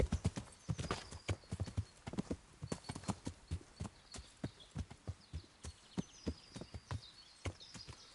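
In the video game Kingdom Come: Deliverance, a ridden horse's hooves clop in a steady, regular walking rhythm, close and moderately quiet, with a faint whinny and birdsong behind.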